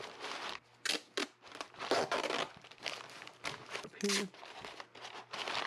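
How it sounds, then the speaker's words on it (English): Tape being torn and wrapped around parts from a first-generation Mazda RX-7 part-out, giving close crinkling, tearing bursts at irregular intervals while someone talks over it. "this stuff I'll tape together"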